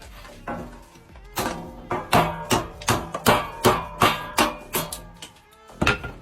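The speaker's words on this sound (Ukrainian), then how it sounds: "Ось, будь ласка, сталевий лист, товщина 3 мм, пробиває наскрізь." An army knife is driven repeatedly into a 3 mm steel sheet, producing a regular series of about a dozen sharp metallic impacts, loud and close, with a brief pause before a final pair.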